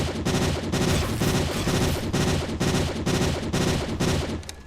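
Rapid, loud bursts of automatic gunfire in a video game, coming as a dense, continuous series of shots with brief regular breaks between volleys.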